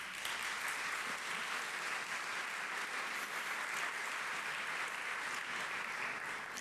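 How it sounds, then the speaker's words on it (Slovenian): An audience at a business round table on the future of Slovenian entrepreneurship gives a steady, sustained round of applause, heard fairly faint and distant throughout. "Vsi zaslužijo aplavz."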